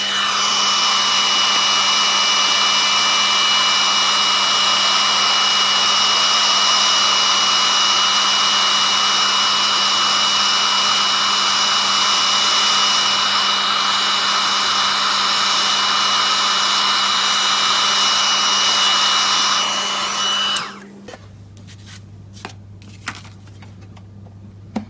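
Heat embossing tool blowing hot air over a craft card, a steady loud whooshing hum with a low motor drone running about twenty seconds before switching off, followed by quiet handling clicks.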